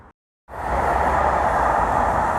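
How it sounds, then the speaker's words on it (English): A train rushes past at close range, a loud steady broadband roar filling the scene right after a short silence, heard on a drive through a Belgian town. "Train, good timing"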